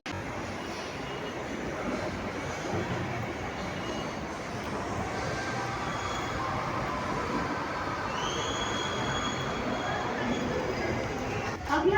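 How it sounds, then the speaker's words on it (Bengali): A Kolkata metro train runs with passengers aboard, a steady low rumble and rushing hum inside the carriage, faint high squeals late, with people talking beneath. "চলো মেট্রো উঠি উঠে কথা বলছি"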